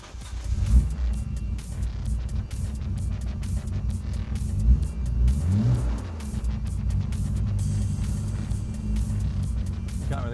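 Modified Nissan GT-R running on E85 with a Haltech ECU revs through its first startup, a deep continuous engine rumble with repeated throttle blips rising and falling, loud and close throughout.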